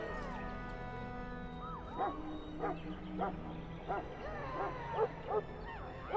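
A Mabari war dog in Dragon Age: Origins gives several short, moderately loud barks and yips in an irregular sequence over a low sustained musical background.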